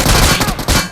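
Gunfire in a video game: a rapid, loud burst of shots packed into about a second, close and punchy, with no voice over it.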